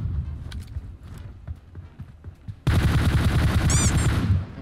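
Automatic gunfire in PUBG Mobile laid down as cover fire, distant scattered shots at first, then a loud, close, dense burst of rapid fire lasting a couple of seconds.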